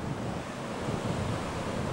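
Pacific Ocean waves and surf roll in as a steady, loud broadband rush, with wind buffeting the microphone throughout and no voices.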